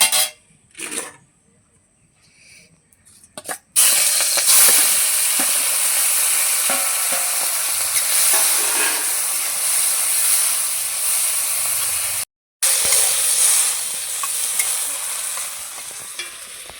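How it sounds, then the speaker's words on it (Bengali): Shrimp fry in hot oil in a pan, bursting into a loud, steady, close sizzle after a few quiet seconds of faint clatter. The hiss continues almost unbroken apart from one brief cut. "তেল দিয়ে আগে চিংড়ি মাছটা ভেজে নেবো"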